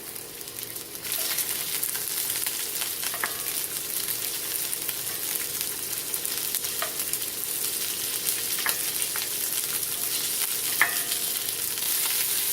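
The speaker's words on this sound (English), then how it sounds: "You're just searing the meat to lock the flavor in." Sausage searing in olive oil in a pot over medium-high heat, giving a steady, close, even sizzle throughout with a few faint clinks, and no talk.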